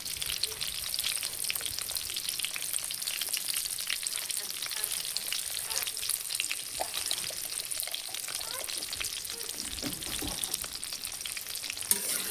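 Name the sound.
pointed gourd (potol) frying in hot oil with turmeric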